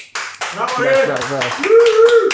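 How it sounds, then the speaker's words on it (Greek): Brief applause at the close of a podcast episode, a few quick claps under loud, lively talking and laughter that dominates the clip. "Ένα χειροκρότημα."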